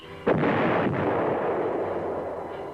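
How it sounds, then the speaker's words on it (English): Heavy tank and anti-tank gunfire in a battle involving M60 Patton main battle tanks, with a loud, close blast opening into a long rumbling roar, a second shot following under the echo. "As they move in a coordinated attack with infantry units, the tanks meet heavy fire from enemy tanks"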